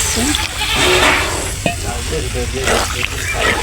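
Goats bleat a few times close by, over loud talking and steady background noise.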